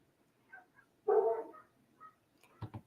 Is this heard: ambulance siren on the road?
no